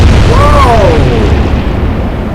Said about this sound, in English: That's a magazine detonation.